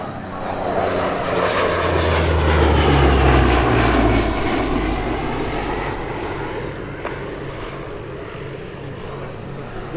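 A P-38 fighter's twin Allison engines and big three-bladed propellers roar loudly as the plane passes at a WWII fighter gathering, swelling to a peak and then easing off, with a voice commenting over the engine drone.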